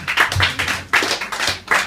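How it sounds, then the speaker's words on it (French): A small crowd applauds a French city in a few uneven bursts, brief, close claps with gaps between them and no voices over the top. "Donc, ça s'applaudit."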